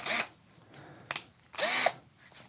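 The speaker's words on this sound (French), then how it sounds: "Cette petite perceuse est très bien." Small Peugeot Energyhub cordless drill running in two short bursts, the motor whining up and down at close range, with a brief mechanical click between them and no talking.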